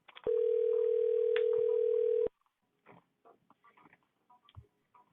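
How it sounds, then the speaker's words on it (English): A steady outgoing-call ringing tone on a phone line holds for about two seconds, then gives way to faint background sounds and quiet music. "You guys can hear the ringing, right?"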